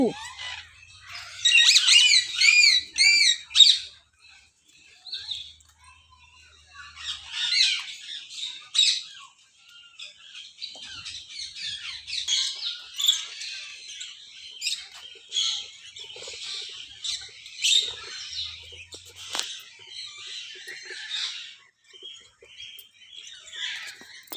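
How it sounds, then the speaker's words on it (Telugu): Shrill, harsh chirping calls of rose-ringed parakeets in repeated bursts, with short pauses between, fairly close and loud over a quiet background. "రామచిలకలు"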